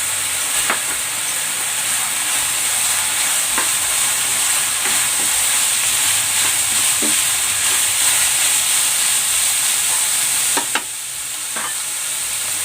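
Carrots and green beans sauté in a pan, a steady loud sizzle and hiss running throughout with occasional clicks of a stirring utensil and a brief dip near the end.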